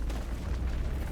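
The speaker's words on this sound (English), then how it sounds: "Rock explosion on all this adamantite." A rock explosion blasting adamantite ore in RuneScape: Dragonwilds, a dense low rumbling boom that fills the whole moment with no pause, loud and close.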